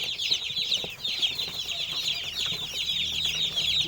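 A flock of chickens clucking and chattering while pecking at feed in their feeder, a dense, continuous mix of calls close by, with no talk.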